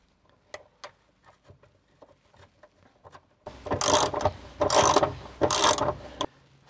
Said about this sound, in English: So I will tighten all these up.